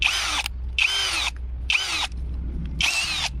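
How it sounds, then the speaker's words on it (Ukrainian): A cordless 20V impact drill-driver fitted with a drill bit whines in four short, loud bursts of free spinning, each cut off by a brief pause. "Ставимо його в шурупокрут наш."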